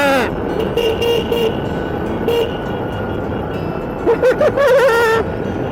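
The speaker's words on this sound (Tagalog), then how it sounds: "Busina tayo, busina!" A Kymco Like 125 Italia scooter horn toots in short beeps, first a few spaced honks and then a quick cluster near the end, over steady engine and road noise.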